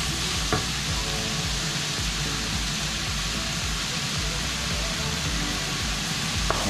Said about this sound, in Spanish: Vamos a dorar la cebollita